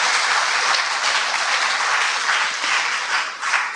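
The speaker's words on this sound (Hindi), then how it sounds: "इतनी बड़ी खबर मिली तो ताली तो बजाइए।" An audience at a Brahma Kumaris stress-relief camp gathering in Indore claps steadily, a dense, continuous wash of applause from many hands with no talk.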